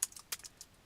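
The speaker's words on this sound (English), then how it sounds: "If I type in print" Several quick computer keyboard keystrokes, close and crisp, clicking in an uneven burst with no voice.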